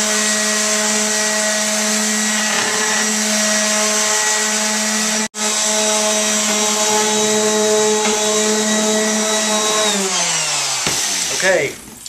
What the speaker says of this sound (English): I'm going to sand it with 80 grit,